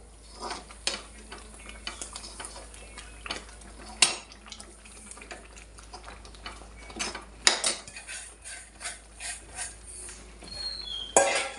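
Semolina (rava) being stirred in a pan for upma, with repeated metal scraping and clinking of a spoon against the pan in irregular bursts, close and fairly loud, no talking.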